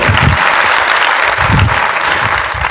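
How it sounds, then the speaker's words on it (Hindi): Loud, close applause from a seminar audience, a thick burst of many hands clapping that stays strong for a few seconds with no talking over it. "तालियां होनी चाहिए एक बार जोरदार वाली।"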